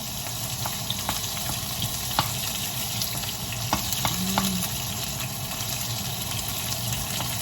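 Onions frying in a pan for pakbet, a dense, steady sizzle filling the whole stretch with scattered small crackles and pops and brief clinks of stirring.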